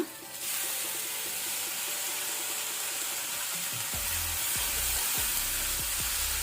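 Onion and tomato frying in a pan over a medium flame, with a steady, loud sizzle throughout and a few soft stirring knocks in the second half.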